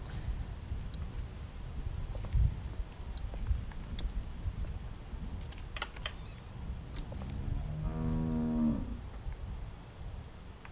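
A cow moos in The Walking Dead video game, a drawn-out low call of about a second, rising out of steady ambient farm and barn noise with a few soft clicks before it.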